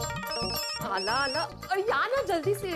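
A telephone rings with repeated electronic tones while a person speaks urgently over it, close and fairly loud.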